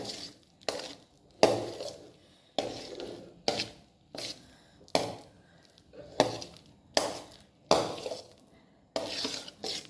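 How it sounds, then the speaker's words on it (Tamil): Ground almond paste stirred in ghee in a pan for badam halwa, a steady run of about nine rhythmic scraping strokes, close and fairly loud, with no talking. "அரைச்ச பாதாம் விழுதை அந்த நெய்யில் சேர்த்து கிண்டி விடணும்"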